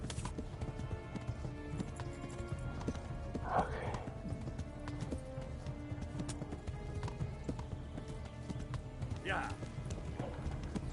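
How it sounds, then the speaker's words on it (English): Horse galloping in the video game Kingdom Come: Deliverance, a steady rapid clip-clop of hooves throughout with brief bursts of other game sounds over the top. "Can't afford to let the horse rest too much."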